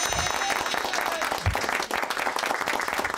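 Audience applause fills the room at a leadership seminar, a dense, steady wash of many hands clapping at once, with a brief low thump midway and no talk over it.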